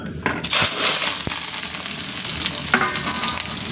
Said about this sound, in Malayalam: ഇത് നമുക്ക് അങ്ങോട്ട് വറുത്തെടുക്കാം